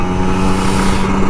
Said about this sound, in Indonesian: Emang enak bro ngegas di pagi hari tuh